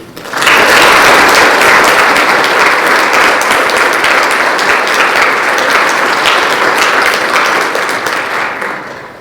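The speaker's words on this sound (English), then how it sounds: "Please join me in a round of applause for our 2024 National Honor Society inductees." Audience applause for 2024 National Honor Society inductees at an induction ceremony, a dense, loud burst of many hands that starts abruptly and holds steady for about nine seconds before easing slightly at the end.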